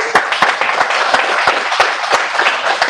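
An audience at a panel event gives a short round of applause, a fairly loud burst of clapping with distinct individual claps heard close.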